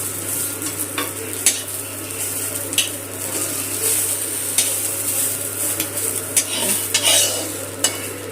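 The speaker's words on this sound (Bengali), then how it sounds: "এরকম মোটা মোটা করে আমরা ভেজে নিচ্ছি।" Thick pieces of omelette frying in a pan for omelette curry, a steady close sizzle with a low hum beneath and occasional scraping clinks of a utensil stirring against the pan.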